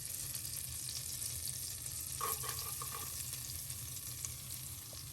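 Fresh minced garlic frying in a pan of sausage grease and half a tablespoon of butter, a steady soft sizzle with a faint stir or clink partway through.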